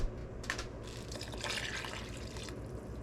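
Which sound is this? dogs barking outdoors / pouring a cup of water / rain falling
pouring a cup of water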